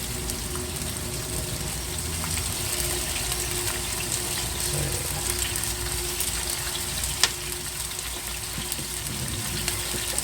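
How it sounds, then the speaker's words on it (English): Curry leaves crackle in hot oil with onions and mustard seeds for a sambar fish curry, a dense, even sizzle that holds steady throughout, with one faint tap and no speech. "I'm gonna just put a part of curry leaf into that."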